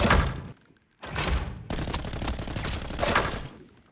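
An M61 rifle in a video game fires fully automatic: dense rapid bursts of gunfire, a short burst, a pause, then a longer continuous stream with a second, separate burst, loud and close with no talking.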